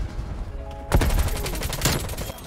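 Rapid bursts of anime-skinned weapon gunfire in Call of Duty Cold War, loud close shots in a fast volley with a brief quieter gap at the start.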